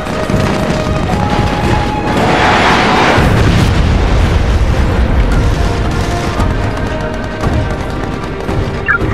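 Airstrike explosions from the shooter SOCOM 4 U.S. Navy SEALs: a heavy, sustained rumble of loud booms and blasts rolls on throughout, with crackling bursts layered over a deep low roar.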